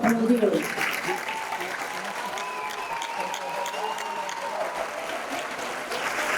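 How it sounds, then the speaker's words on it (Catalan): A graduation ceremony audience applauds after a welcome, a steady wash of clapping from a crowd that runs throughout, with a brief spoken voice at the very start. "Aplaudiu."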